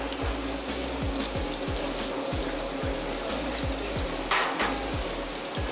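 Oil sizzles steadily in a hot pan as meat browns while pasta goes into a pot of boiling salted water, giving a continuous close frying hiss with soft bubbling and a brief louder burst partway through.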